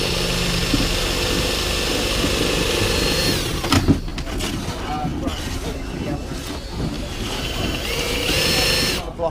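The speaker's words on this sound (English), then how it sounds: "So go round now and countersink all those" A power drill countersinks screw holes in a stitch-and-glue wooden canoe, with repeated whirring bursts and short stops close by while people talk over the work.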